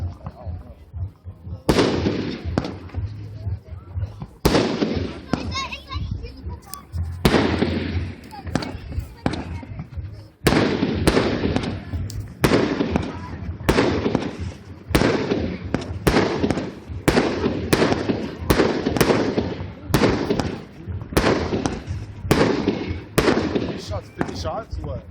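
A 500-gram Path to Destruction fireworks cake from Alien Fireworks fires a long run of loud, evenly spaced booming shots, each ringing out outdoors, with people talking now and then between bursts.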